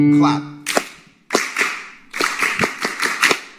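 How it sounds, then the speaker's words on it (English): Hands clap a short rhythmic pattern in a series of sharp, close bursts, spaced unevenly after a brief sung or played tone at the start. "You clap the rhythm as soon as I finish."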